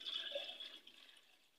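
Water poured from a container into a saucepan sitting on a gas stove, a short hissing, splashing pour that fades out within a second or so, faint and close.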